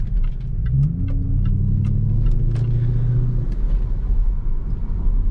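A 4.2-litre supercharged V8 in a Jaguar XF SV8 gives a steady low rumble while driving on country lanes, with a rising rev early on and continuous road noise throughout.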